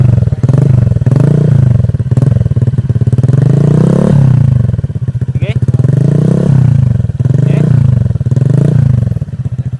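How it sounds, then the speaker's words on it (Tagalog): Honda Click motorcycle fitted with a full system exhaust muffler, revved repeatedly up close in loud rising and falling bursts, settling briefly between pulls, with a voice talking over it. "Full system exhaust mga boss para sa Honda Click version 2, version 3, and version 4, 125 and 150cc."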